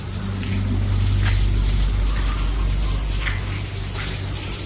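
In a village poultry yard, water pumped out gushes in a steady, loud, continuous rush with a low mechanical hum underneath, unbroken throughout.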